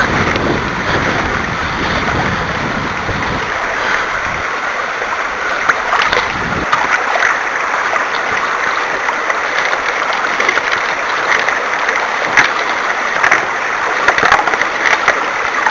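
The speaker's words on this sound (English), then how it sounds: "Look at the tremendous volume of water come out with each down pump." Water gushes and splashes continuously from a hand dredge pump in a loud, close rush, with steady noisy churning, occasional louder surges with each down pump, and rock going through.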